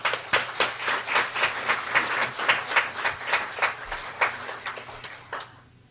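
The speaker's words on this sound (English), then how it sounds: "A warm round of applause for Bob and Cindy." Clapping at a guide dog school graduation ceremony, a fairly sparse, rhythmic series of distinct hand claps that fades out at the end.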